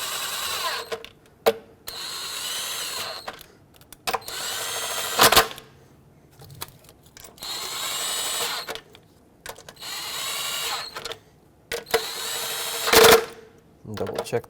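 Power tool snugging the intake manifold bolts on a Ford Flex, heard as repeated whirring bursts of a second or so separated by pauses, with talk between some of the runs.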